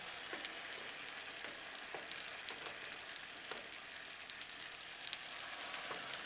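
Teriyaki-sauced meatballs sizzle on a flat griddle, a steady close crackle and hiss with scattered sharper pops and no voices.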